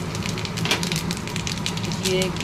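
Cumin seeds sizzle and crackle steadily in hot ghee in a home kitchen pan while rice is being cooked. The frying is a dense, continuous hiss with brief pops, close and moderately loud.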